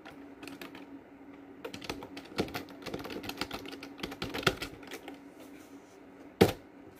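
Rapid clicking of computer keyboard keys, typed in irregular bursts at close range, with a sharper louder keystroke near the end and no talking.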